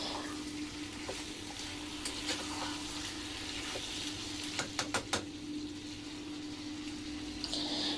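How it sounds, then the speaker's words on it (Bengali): Boiling water poured into a pan of sautéed curry, a steady sizzle and bubbling hiss broken by a few sharp crackles and scrapes near the middle, close and moderately loud with no talk. "এই যে ফুটন্ত জল ছিল সেই জল আমি এখানে দিয়ে দিলাম প্রয়োজন মতো"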